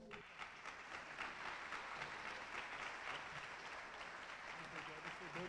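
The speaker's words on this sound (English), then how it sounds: "Round of applause, please." Audience applauding at a high school senior scholarships and awards ceremony, a steady broad patter of many hands held at even strength for several seconds, with some voices mixed in.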